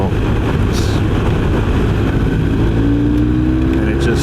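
A BMW R 1250 RS motorcycle engine pulls hard under throttle in fourth gear, a loud, steady low drone rising in pitch over a few seconds, with wind noise throughout and someone talking over it.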